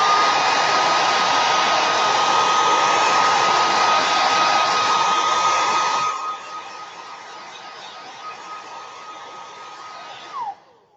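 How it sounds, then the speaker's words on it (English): Hair dryer blowing steadily and loudly up close while drying a screen print, a strong even whoosh that drops to a softer setting partway through, then stops. "I'm going to hit this with a dryer to make sure it's good and dry"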